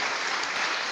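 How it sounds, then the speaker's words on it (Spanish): A church congregation claps together in sustained, dense applause, loud and steady throughout with no voices standing out. "Denle un aplauso al Señor"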